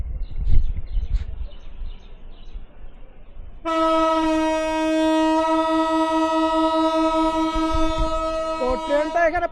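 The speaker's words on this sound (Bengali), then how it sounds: "আমাদের ট্রেনটা কোটচাঁদপুর রেল স্টেশনে পৌঁছেছে" A train horn blares steadily for several seconds over rumbling rail noise and low background chatter at Kotchandpur railway station in Bangladesh, on the Khulna to Dinajpur route, ending with a brief squeal.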